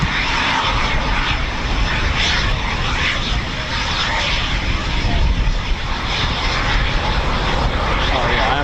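Eurofighter Typhoon FGR4 fighter jet flying near RAF Coningsby, a loud sustained roar of jet engines that fills the whole stretch, with faint talk beneath.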